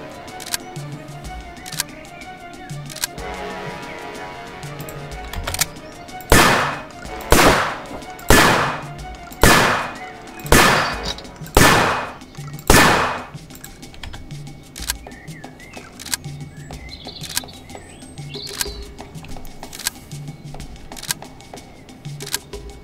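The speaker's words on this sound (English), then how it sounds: "that's the shotgun." Seven sharp, loud shotgun blasts fire in even succession with short decays in the PC game Weapons Simulator, set against faint background clicks and quiet ambience.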